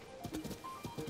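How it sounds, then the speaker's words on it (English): Horse hooves clip-clopping in the video game The Legend of Zelda: Tears of the Kingdom as the horse is steered off a road, a quick run of soft rhythmic hoofbeats, fairly faint, with light game tones alongside. "Steering my horse off the road."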